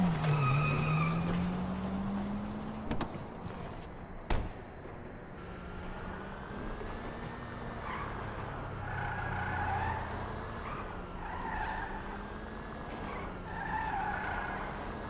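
Race cars skidding in Grand Theft Auto V, with a rising engine whine at the start and then repeated tire squeals over a steady engine drone.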